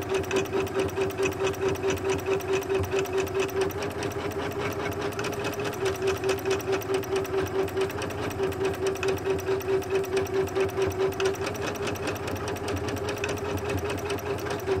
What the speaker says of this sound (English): it's stitching out that exact same design right there as it is over here